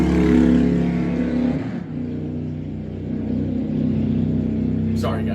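A motorcycle passes by outdoors, its engine rumble swelling loud and close before easing off, with a brief higher noise near the end.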